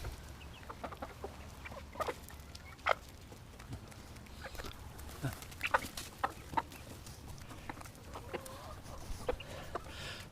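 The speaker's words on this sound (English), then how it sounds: "Pretty chickens, huh?" Chickens cluck and call in scattered short bursts over a steady low farmyard hum, fairly close, with no one speaking.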